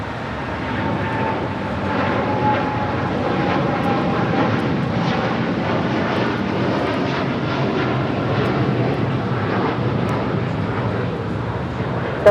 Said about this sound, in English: Our next departure is United Airlines Flight 39, taking off to Tokyo, Haneda on the 787-10 Dreamliner.